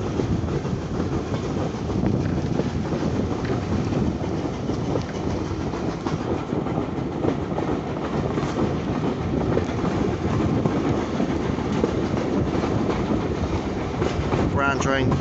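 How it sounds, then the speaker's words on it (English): An Isle of Wight train rumbles along the rails continuously, with a steady rolling roar and rhythmic clatter of wheels over track joints. "Isle of Wight train journey."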